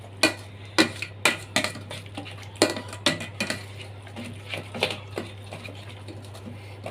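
Utensil scraping and clinking in a bowl while beaten egg with onion, tomato, coriander and parsley is stirred vigorously by hand, giving loud, irregular taps in quick bursts that gradually soften, with no talking.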